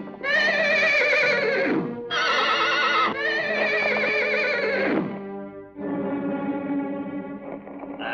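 A horse in a stable whinnies loudly several times in a row, each long neigh heavily processed and echoing, with no voices, from a 1982 Hindi action film.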